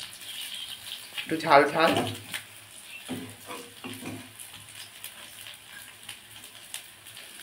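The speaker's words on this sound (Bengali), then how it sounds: "এই বড়াগুলো এখন ভাজছি।" Soybean paste fritters frying in oil, a soft crackle and sizzle in a home kitchen, with a louder burst early on, then quieter spattering while someone talks over it.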